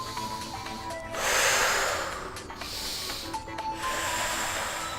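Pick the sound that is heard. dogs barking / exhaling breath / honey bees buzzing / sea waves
exhaling breath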